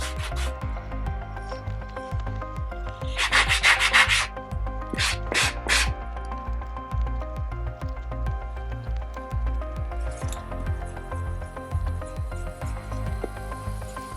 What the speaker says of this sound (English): I am also gonna burnish the bottom edge of the band.